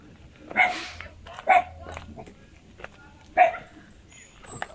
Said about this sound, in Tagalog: May aso, iwas ako sa aso.